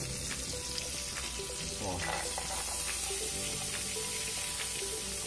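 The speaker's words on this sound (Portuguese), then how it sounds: "Enquanto a nossa manteiga vai derretendo, eu já vou adicionar cebola." Butter melts with onion in a frying pan, giving a constant close sizzle with occasional stirring scrapes; a voice speaks briefly over it.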